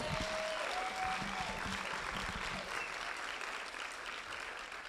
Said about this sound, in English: So can we just have a round of applause for that?